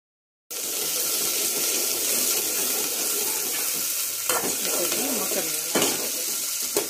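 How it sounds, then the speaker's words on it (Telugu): Onions, green chillies, mint and curry leaves fry steadily in oil for a fish curry, a continuous close sizzle with a few brief scrapes or stirring clicks toward the end. "మనం వేసుకున్న ఐటమ్స్ అన్నిటినీ కొద్దిగా సాల్ట్ వేసి ఫ్రై చేసుకోవాలి"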